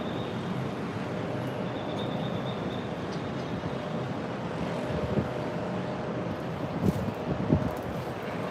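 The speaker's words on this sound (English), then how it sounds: "it's very windy outside and it's causing like really freaking" Strong wind buffeting a handheld microphone outdoors near an airport, a continuous loud rumbling roar with occasional gusty thumps, no voices.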